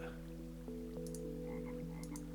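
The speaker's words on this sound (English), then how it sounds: "I can hear a frog ribbiting to the side of me somewhere." A frog in the game Enigmatica 2 croaks in steady, close, sustained tones with a few brief soft clicks, and no one speaks.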